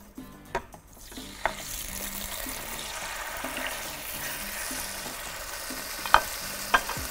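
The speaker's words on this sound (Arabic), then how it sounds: "أول حاجة هنحط الزيت عشان نبتدي نشوح الفراخ" Chicken sautéing in hot oil in a pan, a steady close sizzle running throughout with a few sharp utensil clicks and scrapes near the start and end, no voices.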